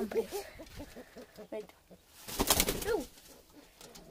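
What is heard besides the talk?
caged bird singing softly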